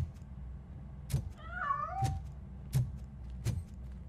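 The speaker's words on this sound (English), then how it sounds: "cat must be hiding inside. Let me lure it out." Cat in the video game Robocop: Rogue City giving a single wavering meow in the middle, set among several sharp clicks and thuds spaced across a quiet background.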